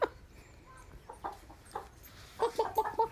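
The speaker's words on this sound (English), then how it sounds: "Check them out, chickens." Chickens cluck nearby in a farmyard, a few scattered calls followed by a quick run of four louder, rhythmic clucks.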